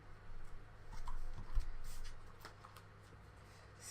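Small stickers are peeled and pressed onto a scrapbook page, with a quiet papery rustle and shuffling that rises briefly in the middle and then fades to near silence.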